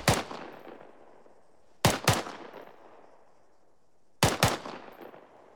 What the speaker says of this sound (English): so rapid rate of fire is going to sound like this.